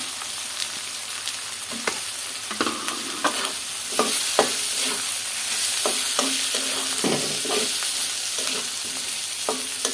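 Cut potatoes sizzling loudly in a hot pan while being stirred, with a steady fry hiss broken by frequent scraping and clattering strokes of the spoon, close up.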